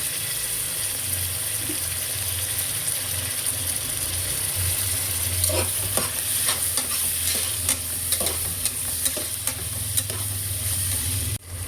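Pulao spices sizzle in hot oil in a pot for a mutton pulao, with a steady frying hiss and a run of scraping spoon strokes and clinks in the middle, and no voices.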